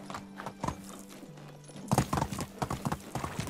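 Horse hooves clip-clopping on the ground while riding in Medieval Dynasty, an uneven rhythmic patter of fairly close hoofbeats that picks up and grows busier partway through.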